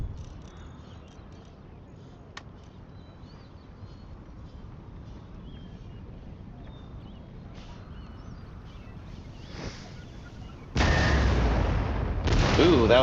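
Cannons fire in a strategy video game: faint distant thuds and battle ambience sit low for a while, then a sudden loud, rumbling barrage bursts in near the end.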